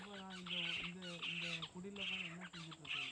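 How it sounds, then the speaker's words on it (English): Owls call at night with repeated raspy squawks and harsh hoots, close and fairly loud, coming in a steady rhythm of short bursts. "What birds are those? The owls?"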